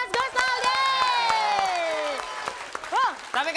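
Studio audience applause for Mas Gus Naldi on an Indonesian TV comedy show, a steady crowd clapping bed lasting a few seconds, mixed with sliding voices and other sound effects.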